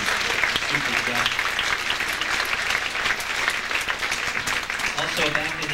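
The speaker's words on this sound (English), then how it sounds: "I need to give Kathy a great round of applause and thanks for super job" Audience applause at a school band cabaret evening, thanking an organizer; loud, dense clapping from a sizable crowd sustained throughout, with some voices and cheers mixed in.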